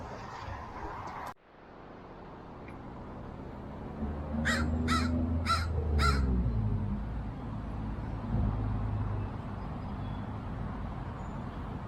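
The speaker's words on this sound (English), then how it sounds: "This crow would leave me alone." A crow caws four times in a quick, evenly spaced series, fairly close and loud over a low rumble of traffic or train noise in a damp Portland rail yard.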